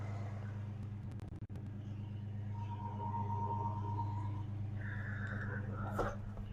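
A 1986 Chevy S-10 engine runs at a high idle with a steady, low, even rumble and a faint whine riding above it, plus a brief clatter partway through.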